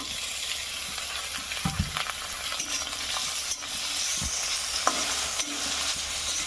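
Chopped onion, green chili and tomato sizzle in a wok with a constant close hiss, while a spatula stirs and knocks against the metal a few times.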